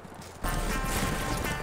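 Loud, dense hoofbeats of a galloping horse in the video game Darkwatch start abruptly and continue steadily, close and busy, with no talking.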